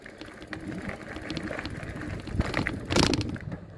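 Surface 604 Bore electric bike motor drives the bike over pavement without pedaling, giving a steady whirring, rattling mechanical drone with jiggly clatter from the unsuspended frame, continuous and fairly close throughout.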